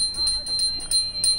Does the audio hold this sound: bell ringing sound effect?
yes